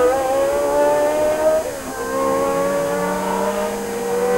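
A historic Williams Formula 1 car accelerates hard at Magny-Cours, its engine screaming loud and close, dipping briefly at a gear change before climbing again, with no talk.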